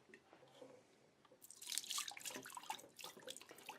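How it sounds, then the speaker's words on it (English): Dirty water being dumped out of a Coil Master CM-800 cleaner tank, a soft trickle that swells into a louder splashing pour halfway through and then keeps running, heard alone. "you need to dump out the tank"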